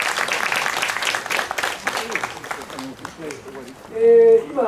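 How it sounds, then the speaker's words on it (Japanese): Audience applause at a Japanese folk performing arts event in Otsuchi, Sanriku, with clapping spread through the crowd under a presenter's voice, ending in a brief loud tonal burst near the end. "皆さんもう一度大きな拍手をお送りください。"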